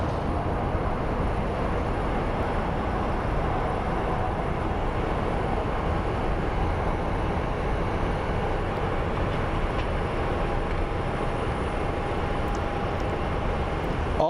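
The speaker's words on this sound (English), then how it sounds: "Southwest 2483 coming in from Burbank. Coming on a landing on runway 7 left." A Southwest airliner arriving from Burbank comes in to land on runway 7 left at Phoenix Sky Harbor, a steady broadband roar of jet engine and rushing air that holds loud and constant without a break.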